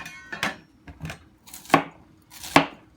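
Knife cutting the stem off a cauliflower on a cutting board, four or five crisp, irregular chops with sharp crunching attacks and short gaps, close up with no talking.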